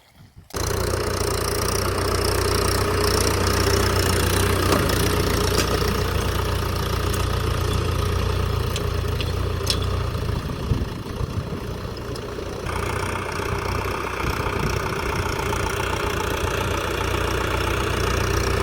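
A motor runs at a steady idle in a village, producing a loud, close, unbroken low drone with a faint knocking texture that continues throughout after a sudden start.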